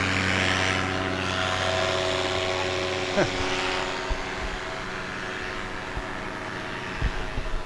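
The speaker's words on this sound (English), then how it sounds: "we've got a couple of pilots climbing for an acro run" Propeller aerobatic planes drone steadily overhead as they climb for an acro run at a barefoot waterskiing championship, a continuous distant engine hum with faint passing noises beneath.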